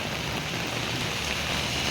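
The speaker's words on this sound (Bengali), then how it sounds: "এই দেখুন বৃষ্টি হচ্ছে, বুঝতে পারছেন।" Rain falling outdoors near a roadside where buses and tuk-tuks pass, as a constant, even hiss with no breaks, at moderate level.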